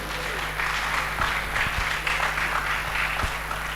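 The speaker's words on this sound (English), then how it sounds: "Let's clap for them as they come." Audience at a university teachers' association congress applauding newly elected executive members coming up to be sworn in, a moderate, even patter of clapping over a humming hall.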